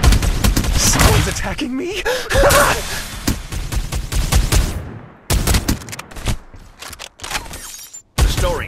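Bursts of gunfire crackle in a Farlight 84 battle-royale firefight, repeated rapid volleys and sharp impacts with brief pauses, mixed with game voice lines and a player talking over the action.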